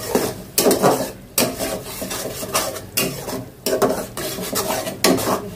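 Chili and turmeric powder are stirred into a curry in a frying pan, giving rhythmic, repeated metal scrapes and clinks of a spoon against the pan over a faint sizzle, close and with no talk.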